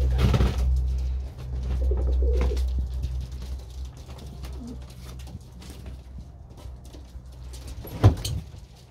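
Low, soft coos from racing pigeons roll in steady repeated calls close by, with light rustling and a brief sharp knock near the end.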